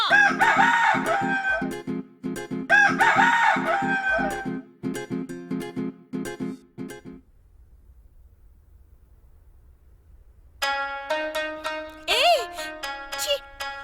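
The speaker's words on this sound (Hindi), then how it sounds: "मुर्गी भाग रही है, पकड़ना" A rooster crows and clucks loudly and close by in a rural yard, several calls in quick succession, then a pause with low rumble before more crowing and clucking returns.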